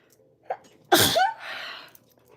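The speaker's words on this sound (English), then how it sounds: "I'm going to sneeze" A small inhaled catch, then one sharp, loud sneeze close to the microphone, trailing into a breathy exhale.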